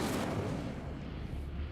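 Incendio fire spell cast in Hogwarts Legacy, a dense roaring burst of flame that fills the short moment with a broad, crackling whoosh, loud and close, with no talk over it.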